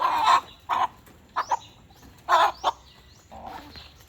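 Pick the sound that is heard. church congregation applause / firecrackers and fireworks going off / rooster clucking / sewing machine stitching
rooster clucking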